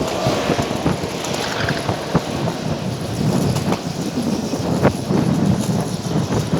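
Strong wind buffets the microphone while cycling through a city park, a loud, continuous roar with gusty low rumbles and scattered sharp pops, close and unbroken.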